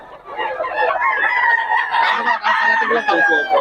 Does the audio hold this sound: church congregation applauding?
no